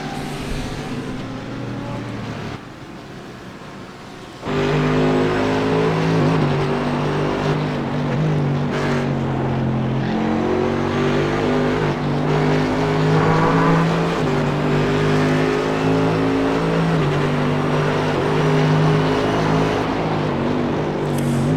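Ford GT3 race cars in the iRacing sim at Mid-Ohio roar loud and close, a steady layered engine drone with shifting pitch as they brake and accelerate, no voices over it.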